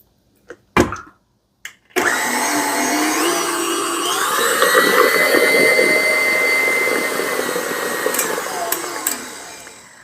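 An electric mixer whirs on high while whipping no-bake raspberry cheesecake filling, a loud steady motor drone that starts abruptly after a few clicks and knocks, its pitch shifting slightly as it runs, close.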